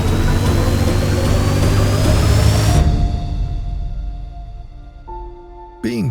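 An engine runs loudly with a dense, rising mechanical roar that cuts off sharply, leaving a softer sustained tone and fading hum before a brief loud burst returns at the end.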